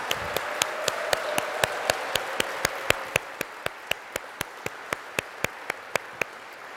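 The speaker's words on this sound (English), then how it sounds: "Please give them a round of applause." A single pair of hands claps in a steady, evenly spaced rhythm, about three claps a second, crisp and close over a quiet room at a community team launch event.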